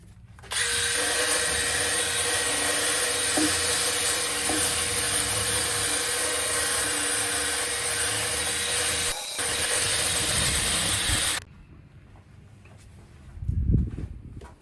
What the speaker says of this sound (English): bust out the wire brush and get to cleaning